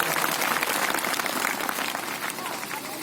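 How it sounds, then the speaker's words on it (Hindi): An audience bursts into loud, sustained applause to welcome Baba Maheshnath at a Jambhvani Harikatha religious gathering at a cowshelter in Chindar, dense clapping filling the space for the whole stretch. "एक बार जोरदार तालियों स्वागत।"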